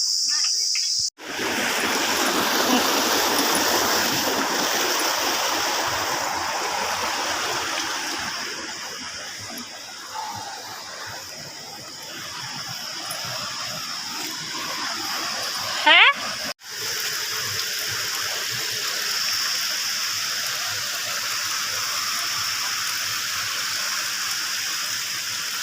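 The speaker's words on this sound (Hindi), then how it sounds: "मैंने सोचा आपको धारा की सैर करा दूं" A mountain stream in the hills rushes in a broad, steady hiss that fills the whole stretch, with insect-like chirring on top and a brief knock partway through.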